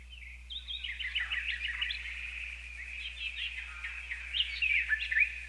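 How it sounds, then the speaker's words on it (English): A sampled bird texture from a one-shot kit: dense, bright chirps and tweets trill continuously in the foreground over a low steady hum. "It's like a bird texture."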